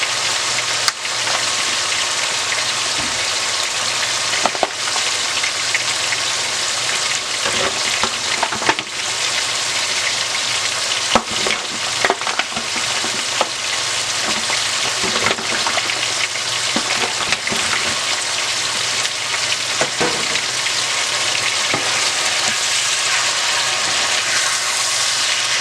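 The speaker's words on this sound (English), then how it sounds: "I'm going to let that fry for 5 minutes" Fish and mixed vegetables frying in a pan, a steady loud sizzle that runs unbroken throughout, with occasional faint clicks and stirring scrapes.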